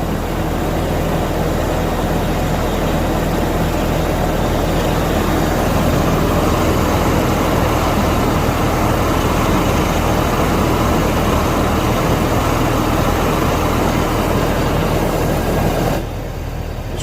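A supercharged engine swapped into a 2006 Hummer H3, with 131,000 miles on it, runs steadily and loudly up close with a constant low rumble and no talk, cutting off near the end.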